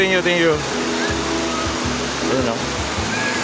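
Water rushes steadily at the San Antonio bathing spot, a loud continuous wash that fills the whole stretch while a person speaks briefly over it.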